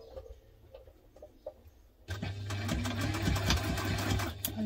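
A sewing machine stitches a sling bag with a construction-length stitch. It starts abruptly after a quiet pause and then runs as a steady, close mechanical whirr with a rapid, even needle rhythm.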